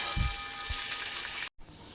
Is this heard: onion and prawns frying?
yes